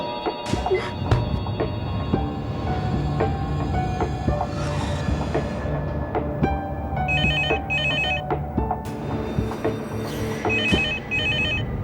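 A telephone rings with repeated bursts of an electronic ringtone in the second half, sounding over a busy background of rumbling and tonal noise.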